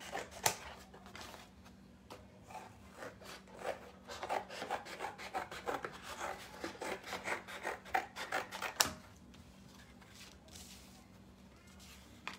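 Scissors cutting cardboard and paper shapes for a rabbit craft built around a cardboard tube, a run of close rasping snips and rubbing strokes for about nine seconds before it quiets down.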